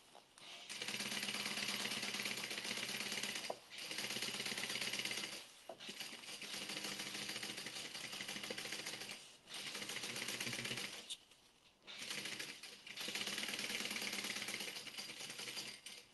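Sewing machine stitching a zipper seam on a duffle bag, running in long steady bursts separated by short pauses, close and clear with no talking.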